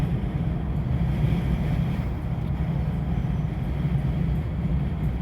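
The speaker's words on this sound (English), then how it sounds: "Y'all have to excuse the wind noise," Steady, loud wind roar through an open car window buffeting the microphone while driving, a constant low rushing with no voices.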